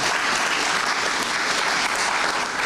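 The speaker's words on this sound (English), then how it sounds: "He deserves a round of applause for that." A crowd applauds steadily at a Botswana football event, dense clapping that stays loud and even throughout the whole stretch.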